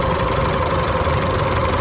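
An Isuzu engine idles continuously after starting, with a low, even rumble and slight knocking vibration, close by and alone.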